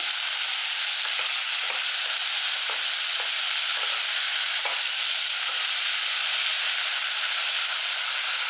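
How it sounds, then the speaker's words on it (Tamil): Chopped tomatoes sauté in a hot pan with a steady, dense sizzle and hiss, close and loud, with faint scraping stirs now and then and no voices. "தக்காளி வந்து நல்லா வதக்கி விடுங்க"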